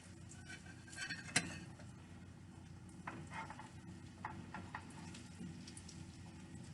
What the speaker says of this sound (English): And then you want to cook your last 3 croquettes, salmon croquettes.